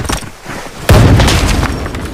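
A loud, booming gunshot in the video game Arena Breakout cuts in sharply partway through and rings out over low background noise.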